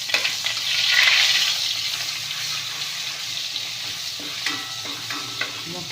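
Bitter gourd sizzling in hot oil with a cumin and mustard seed tempering and crushed garlic, a loud frying hiss that swells early then settles, with occasional stirring clinks and no talk.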